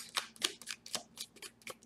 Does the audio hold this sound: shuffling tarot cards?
yes